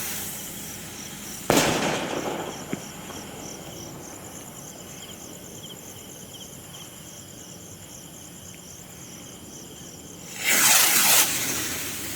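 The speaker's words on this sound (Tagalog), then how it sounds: "Big Rocket by Diamond Fireworks." Two loud, crackling firework rocket blasts from a Diamond Fireworks Big Rocket, one early and one near the end, with steady cricket chirping filling the quiet stretch between.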